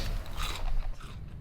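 A crunchy churro is bitten and chewed up close, giving a brief run of crisp, crackling crunches that fade out over about a second and a half, with no speech.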